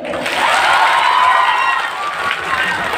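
An audience at a live stage show gives a loud, sustained round of clapping and cheering that fills the space for several seconds.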